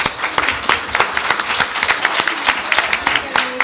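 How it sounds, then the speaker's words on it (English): An audience at the 2021 Virginia Republican gubernatorial debate breaks into dense, steady applause, many hands clapping loudly and continuously. "Please give her a round of applause"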